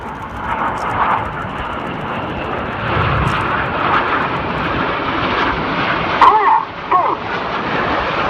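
Red Arrows jets roar steadily overhead during a seaside air festival flying display, a broad continuous rushing drone with a commentator's voice faintly present.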